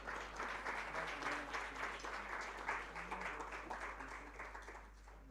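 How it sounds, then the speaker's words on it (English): A conference audience at a summit gives a steady round of applause welcoming panelists, fairly distant and uninterrupted by talk for about five seconds. "Please welcome them with a huge round of applause."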